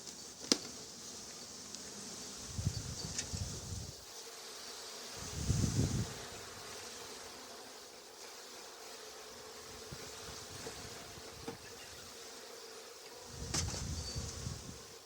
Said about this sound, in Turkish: Hava rüzgarlı olduğu için arı biraz sinirli arkadaşlar.